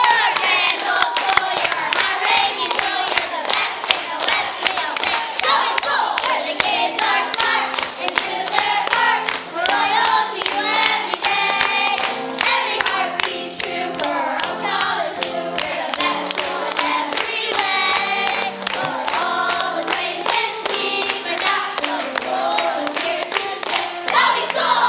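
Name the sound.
audience applause and cheering for Toby Tigers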